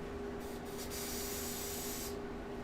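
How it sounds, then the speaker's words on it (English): A wide-spray aerosol can hisses in a couple of short bursts and then one longer, steady spray of about a second and a half, close to the mic, over a faint background hum. "This stuff is awesome because it has a really nice wide spray."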